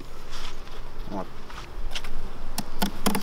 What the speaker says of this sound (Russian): Струсиваем пчел.